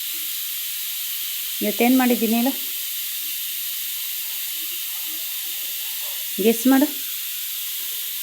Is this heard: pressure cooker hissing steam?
yes